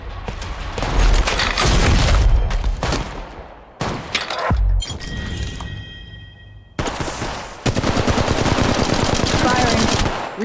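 Flatline rifle fire in the mobile game Apex Legends Mobile comes as loud, rapid automatic bursts broken by brief pauses and reload clicks, with one heavy boom partway through.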